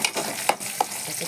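Tomatoes sautéing in a pan for a Tamil-style crab curry (nandu kuzhambu), a soft steady sizzle with a couple of brief sharp clinks of a spoon stirring against the pan, no talk.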